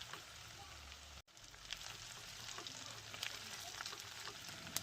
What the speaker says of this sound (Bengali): এরপর পেঁয়াজ আর আদা রসুন বাটাটাকে নেড়ে ছেড়ে লালচে করে ভেজে নেব।